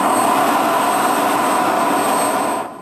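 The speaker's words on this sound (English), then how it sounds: "The engine starts." F-16 fighter jet engine running up to start, a loud, steady broadband roar with a thin high whine on top, holding constant and then tailing off slightly at the very end.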